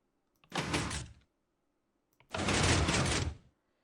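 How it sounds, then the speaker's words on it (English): Minecraft 3x3 piston door built with double piston extenders in Java Edition 1.16.5, two separate bursts of mechanical movement, each about a second long with a pause between, clear and close with no talk. "Now you're ready to test if the double piston extenders work with the door."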